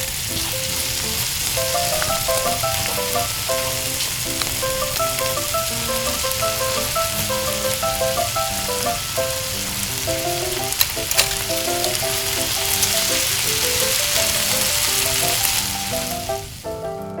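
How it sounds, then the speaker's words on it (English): Tiny octopus frying on a miniature grill in a small toy-scale kitchen, a steady close sizzle and crackle running without a break, with faint light clicks over it and no talking. "Fry until both sides of the octopus are burnt."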